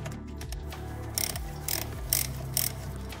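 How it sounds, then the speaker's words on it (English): Ratchet clicking in short bursts as Torx screws on an automatic transmission oil pan are loosened in a crisscross pattern, with louder ratcheting passes repeating about every half second over a steady mechanical background. "I've now carefully loosened the screws with the ratchet"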